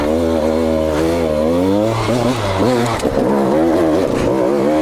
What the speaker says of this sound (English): This is me trying to do a enduro section on Konnors 85